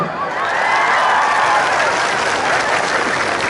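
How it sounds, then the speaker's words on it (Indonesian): Applause from a church congregation during a sermon, a dense, steady wash of many hands clapping together that holds at full strength for several seconds with no voices above it. "Tepuk tangan."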